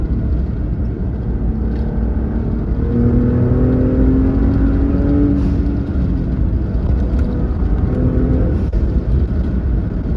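Ford Raptor truck with a camber kit driving over an uneven road, heard from inside as a loud, steady low rumble of tyres and engine with a faint rising and falling engine tone.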